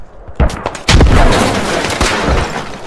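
A grenade explodes near an MT-LB armored vehicle, with two sharp, loud blasts close together followed by a rumbling, decaying roar and another thump.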